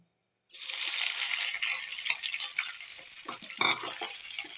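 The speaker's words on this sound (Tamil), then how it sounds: "வெங்காயம் கொஞ்சம் கிறிஸ்பாக ஆகிற மாதிரி பொறிச்சு வச்சுக்கலாம்" Onions frying in hot oil until crisp: after a brief silence a loud sizzle bursts in and continues steadily up close, with a few bubbling crackles and light stirring knocks toward the end.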